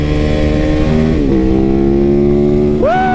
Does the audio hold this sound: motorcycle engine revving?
yes